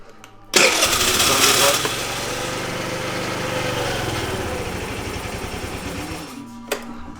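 A stock 50cc scooter engine starts abruptly and runs at a close, buzzy, rattling idle with a steady pulse, then cuts off near the end, followed by a brief knock.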